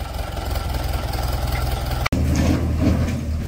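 A tractor engine idling in a village while a sugarcane trolley is hitched, giving a steady close low diesel throb with a rhythmic pulse, briefly cut by a sharp click near the middle before the idle resumes.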